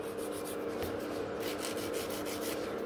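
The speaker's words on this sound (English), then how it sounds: "So I'm filing a nice V-shape first." Hand filing of a gel nail extension into a V-shape, a soft steady rasping with regular back-and-forth strokes, close and quiet.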